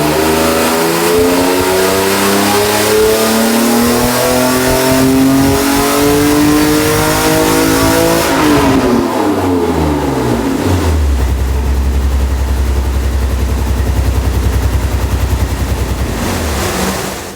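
A BMW M3 engine revs hard on a full-throttle run, climbing through the gears with a shift midway and then settling into a loud, rough, pulsing drone, close and alone without voices.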